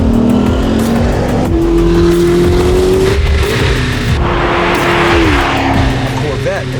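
Loud, sustained engine roar from a 2025 Corvette ZR1 as it accelerates hard, pitch climbing through gears with a shift around the midpoint, close and continuous for the whole stretch.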